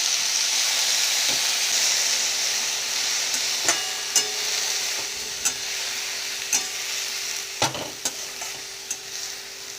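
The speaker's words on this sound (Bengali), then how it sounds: "এটা নাড়তে নাড়তেই অনেকটা দেখবেন গলে আসবে, জল ছাড়বে।" Sour spinach chutney cooking in a pan gives a steady close sizzle and steamy hiss, with a spoon stirring and scraping in occasional soft knocks throughout.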